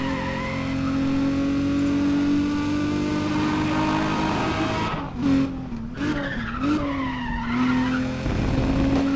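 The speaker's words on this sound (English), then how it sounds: "Listen to that tire squeal," A Nissan 350Z in the racing video game NFS ProStreet, its engine droning steadily under a long, loud tire squeal, with the pitch dipping and warbling as the car skids through a corner.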